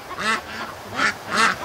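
Ducks quack in alarm, three loud, close, harsh calls in quick succession over a faint background.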